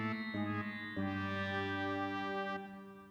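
A cartoon disappointment sound effect played from an Elgato soundboard: a sustained, buzzy synthetic tone that steps down in pitch in a few stages before fading, heard alone and clearly.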